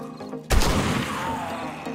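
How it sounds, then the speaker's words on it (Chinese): Gunfire in the zombie survival game 7 Days to Die: one sudden loud burst of shots erupts midway, followed by a rumbling, crackling decay that hangs on to the end. "我听到枪声了，是你吗？"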